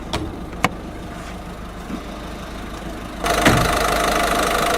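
A 2013 Citroën C5 1.6 litre HDI turbo diesel engine idles with a low, steady rumble, a couple of faint clicks early on, then the sound grows louder and fuller partway through.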